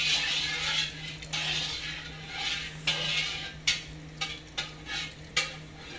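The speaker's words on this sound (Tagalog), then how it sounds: "haluin muna natin ng bagya guys" A spoon stirs sopas, a Filipino milk soup, in a pot: repeated scraping, swishing strokes, continuous at first, then spaced into separate loud clinks and scrapes.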